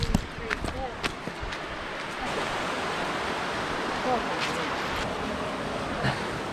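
Punchbowl Falls in the NSW high country, a steady broadband rush of falling water growing louder on the approach to the falls, with a few brief knocks and footstep-like taps near the start.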